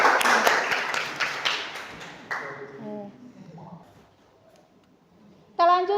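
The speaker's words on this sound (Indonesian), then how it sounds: "Tepuk tangan untuk kita semua" Classroom clapping during a lesson, a burst of sharp, close hand claps lasting about two seconds before dying away, followed by a teacher speaking.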